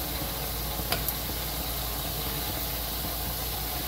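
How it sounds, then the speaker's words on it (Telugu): Veg Manchurian balls deep-fry in oil over a medium flame, giving a steady, even sizzle and bubble with a couple of faint clicks, close and moderately quiet, with no talk. "మీడియం ఫ్లేమ్లోనే ఫ్రై చేసుకోవాలి ఆల్మోస్ట్ ఫ్రై అయిపోతున్నాయి"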